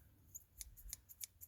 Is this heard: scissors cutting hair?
yes